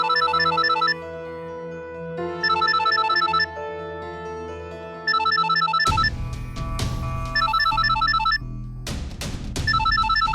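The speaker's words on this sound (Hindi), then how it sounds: "इसका फोन है।" A phone ringtone plays a repeating electronic melody, loud and continuous, with a sudden burst of louder, busier sound joining halfway through.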